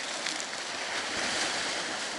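Cold winter wind roars steadily over the Black Sea, around one degree above freezing, with a constant rushing hiss of air and surf, fairly loud and unbroken, with no voices.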